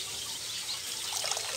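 Water runs from an opened faucet into a homemade quail drinker, a steady soft hiss and trickle close by with faint bird chirps in the background.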